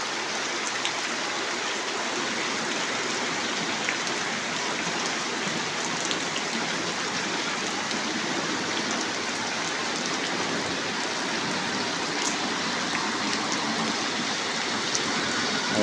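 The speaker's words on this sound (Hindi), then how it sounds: "मुसलसल बारिश लगी थी जनाब सा देख सकते हो" Continuous rain falls in a steady, even patter that holds without pause for the whole stretch, with no talking.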